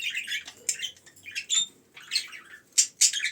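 A small bird gives a string of sharp, high chirps and squawks in quick irregular bursts, close and clear against a quiet background.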